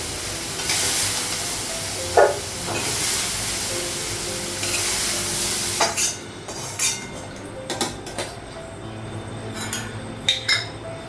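Soybean chunks frying in oil in a kadai over a gas flame, with a steady hiss and sizzle and intermittent metallic clinks and scrapes of a spatula stirring against the pan, close up.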